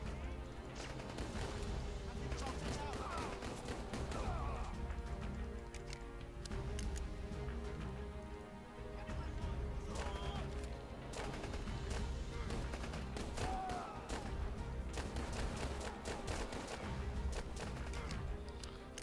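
Gunfire in the Rambo video game, Baker Team DLC: a steady, dense stream of shots and crackling bursts with a constant game soundscape underneath for the whole stretch, no quiet gaps.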